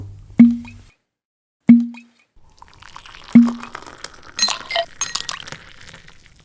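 Three sharp glass clinks of beer glasses raised in a toast, evenly spaced and close, each ringing briefly, followed by softer clattering and pouring-like rustle in a quiet audio drama scene.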